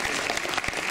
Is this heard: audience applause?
yes